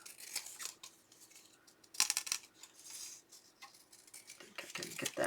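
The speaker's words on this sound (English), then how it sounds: "I'm going to do it with my scissors here" Scissors snip through patterned scrapbook paper while trimming a piece for a Halloween craft album: a series of quiet, crisp cuts, with a denser cluster of snips near the middle and more toward the end, and no talking.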